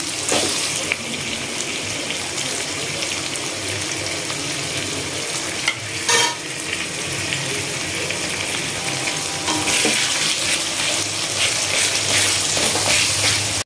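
Onions frying in oil in a pan, a continuous loud, hissing sizzle with crackles and a brief stirring clatter, close and steady, with no talk.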